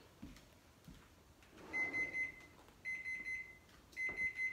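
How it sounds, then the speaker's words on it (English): A kitchen timer beeps in three short bursts of rapid, shrill electronic chirps while a tray of sheet pan pineapple chicken fajitas bakes, each burst clear and close above a quiet room. "Turn off my timer."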